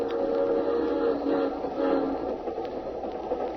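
Steady rumble of a train travelling overnight, a continuous rolling drone with faint rhythmic clatter, staged as an old-time radio drama sound effect; no voices over it.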